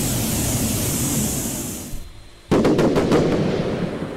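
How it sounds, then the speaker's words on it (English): Fireworks going off in the Roblox game Lumber Tycoon 2: after a steady hiss, a sudden burst of rapid crackling pops fires in quick succession and stays loud to the end. "See guys, I'll show you some better fireworks."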